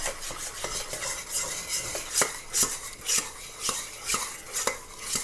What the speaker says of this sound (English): And when I stir it, it's going to start to form slime.